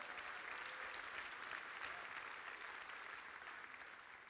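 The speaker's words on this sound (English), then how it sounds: "somebody give the Lord a hand clap right there" Church congregation clapping during an Easter Sunday service, a steady, distant wash of applause lasting a few seconds without speech over it.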